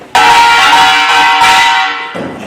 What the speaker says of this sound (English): First one is 꽹과리, the left instrument.